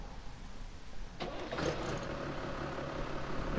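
A tractor engine in Farming Simulator 19 cranks and catches about a third of the way in, then settles into a steady mid-pitched idle, after a quiet stretch of low hum.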